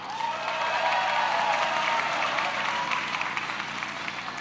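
A crowd of young entrepreneurs gives steady, dense applause welcoming Bahlil Lahadalia at a national declaration event for Prabowo-Gibran, the clapping sustained throughout and slightly fading toward the end.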